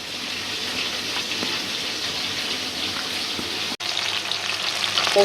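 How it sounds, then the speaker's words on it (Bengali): Rohu fish pieces frying in oil give a continuous crackling sizzle, close and even, with a brief dropout partway through and no speech. "আমাদের মাছগুলো সুন্দর করে হালকা করে ভাজা হয়ে গেছে তুলে নেবো"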